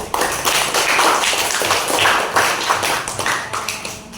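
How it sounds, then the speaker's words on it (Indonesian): Classroom applause for a group of students who have just presented, a dense, steady patter of many hands clapping at close range for about four seconds with no speech over it. "Oke, tepuk tangan dulu untuk kelompok 1."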